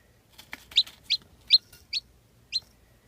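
A small chick peeps five or six times in a steady, high-pitched series of short, clear chirps, close by with a quiet background.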